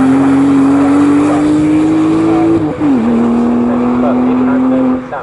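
Porsche race cars howl at full throttle around Snetterton circuit, a loud sustained engine tone holding steady, dipping briefly as gears shift near the three-second mark, then droning on, with a commentator's voice running underneath.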